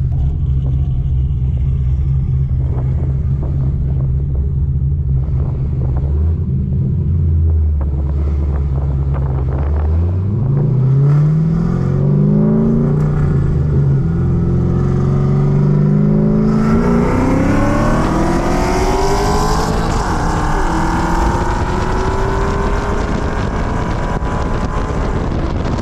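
A cammed C6 Corvette with full exhaust, intake and stage 4 BTR cam on 91 fuel idles with a loping burble, then accelerates hard with rising engine pitch through gear changes, loud and close, with wind buffeting the microphone.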